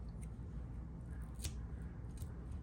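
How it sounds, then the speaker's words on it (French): Scissors snipping off excess crochet yarn, a few soft quick cuts close by over a low steady background hum. "Donc ici, je vais juste couper les excédents."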